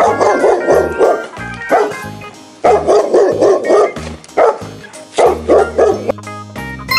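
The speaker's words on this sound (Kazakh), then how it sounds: "бұл иттің дауысы." A dog barks in loud, quick bursts of several woofs each, repeated in clusters over soft background music.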